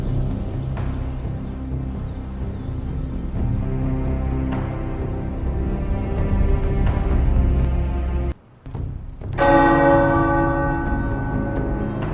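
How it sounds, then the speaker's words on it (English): Tower bells peal loudly in a sustained, overlapping clangor in the video game Marvel's Midnight Suns, briefly cut off by a short silence before ringing out again with fresh strikes. "The tower bells are ringing."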